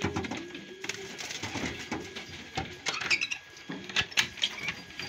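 Pigeons in a loft coo with low rolling calls, joined by wing flutters and light pattering movement, close and moderately loud, with no talk.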